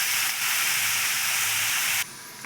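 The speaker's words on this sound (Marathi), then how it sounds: "अशी आपण तेलामध्ये काकडी घेतलेली आहे परतून" Cucumber sautéing in hot oil in a pan gives a steady, loud sizzling hiss that runs unbroken for about two seconds before it cuts off abruptly.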